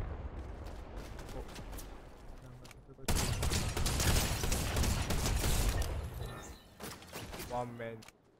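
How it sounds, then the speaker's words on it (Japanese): Fireworks launching inside a Fortnite match, a dense run of booming, crackling bursts that jumps sharply louder partway through and keeps rumbling, mixed with game noise and someone talking over it. "花火が打ち上がってる。"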